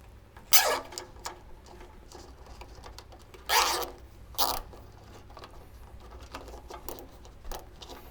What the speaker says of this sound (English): I'm going to go ahead and install a couple of zip ties.